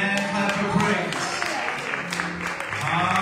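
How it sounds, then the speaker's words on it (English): Church congregation applause, a dense patter of clapping throughout with voices and organ-like tones mixed underneath. "let's give God a hand clap of praise"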